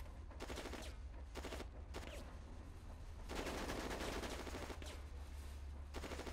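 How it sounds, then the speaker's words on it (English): Rapid machine-gun bursts and sustained gunfire in the WW2 Online combat game, loud and dense, with longer fusillades and a heavier rumbling stretch midway. "I think there must be something shooting."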